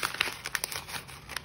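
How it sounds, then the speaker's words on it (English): Folding the overlong stem of a handmade paper peony or hydrangea gives close, crisp paper crinkling in a quick run of small crackles and rustles, with no talk. "for the overlength stem I will just fold it upward like this"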